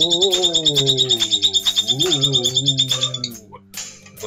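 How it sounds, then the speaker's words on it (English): A bird in the visual novel game Katawa Shoujo chirps in a rapid, steady string of high, piercing notes over background music, then stops abruptly. "It's like a damn siren, that bird is."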